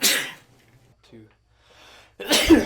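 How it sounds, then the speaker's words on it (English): A man sneezes twice, with a loud, sharp burst at the start and another near the end, close up, separated by quiet breathing and a brief spoken word. "You've been sneezing all freaking"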